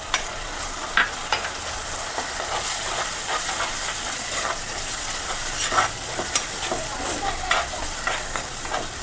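Ground paste of tomato, coriander and garlic fries in hot oil with onions for a fish curry, a steady close sizzle and hiss with occasional stirring scrapes, no voices.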